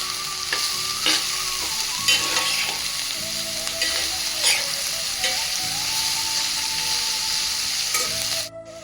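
Cabbage egg curry sizzles steadily in a pan over a low flame while a spoon stirs it, scraping and clinking in repeated strokes against the pan, close and continuous, no talk.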